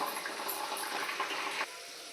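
Water pours into a pot of sambar, a continuous splashing gush that stops abruptly near the end, leaving quiet background.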